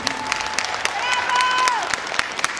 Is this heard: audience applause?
yes